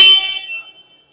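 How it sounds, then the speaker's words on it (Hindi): A single electric horn on a Hero Xtreme 125R 125cc motorcycle gives one short, loud, bright honk up close, fading quickly. "सिंगल हॉर्न है लेकिन काफ़ी तगड़ा हॉर्न आपको देखने को मिल जाता है"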